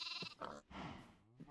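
In Minecraft, a sheep lets out several wavering bleats in quick succession, close and clear, with no talking.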